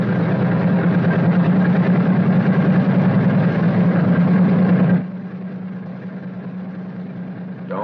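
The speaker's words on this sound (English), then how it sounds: "continue to prime intermittently until the engine is running smoothly" A B-29 bomber engine from a 1944 Army Air Forces training film runs with a loud, steady, rumbling drone, then drops abruptly to a quieter idle-like hum partway through.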